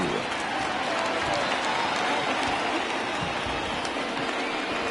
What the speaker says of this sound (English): The rain coming down as it is, we are in for a long delay.